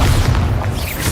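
A Bombarda explosion spell goes off in Hogwarts Legacy as a single deep, booming blast lasting about a second, loud and close, with no speech over it.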